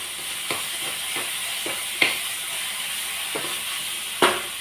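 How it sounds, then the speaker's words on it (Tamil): Potatoes fry in a pan over low heat, giving a steady close hiss and sizzle broken by a few sharp clinks and scrapes from stirring, with no voices. "எல்லாத்தையும் ஒன்றா போட்டு சிம்மில் வச்சு ஃப்ரை பண்ணிக்கலாம்."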